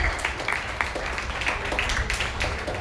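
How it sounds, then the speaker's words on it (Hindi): An audience claps steadily for children's performances at a stage event, a dense, even patter of many hands filling the whole stretch with little talk. "तालियां बजती रहनी चाहिए बच्चों के लिए।"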